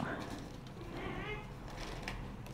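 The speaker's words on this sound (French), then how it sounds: "Les chats sont encore en train de se battre, mais vraiment." Cats fighting indoors, heard as faint yowling and wavering cries in the background while a person talks over a steady room hum.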